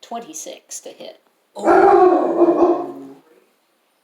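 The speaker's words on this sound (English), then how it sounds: "That's the dog, by the way." A dog howls in one loud, sustained cry lasting over a second, coming right after people talk during a Dungeons & Dragons Baldur's Gate tabletop session.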